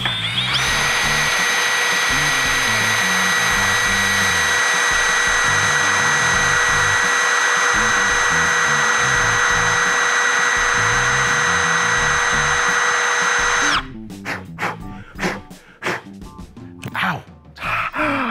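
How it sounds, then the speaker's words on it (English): A Milwaukee power drill runs in one steady, loud, high-pitched whine while boring a hole for a bolt extractor, then cuts off abruptly near the end, leaving brief scraping and handling noises. "we've drilled exactly what we need to get our extractor in there snugly"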